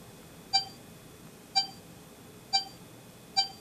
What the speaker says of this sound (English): Instead of the click, I get a beep.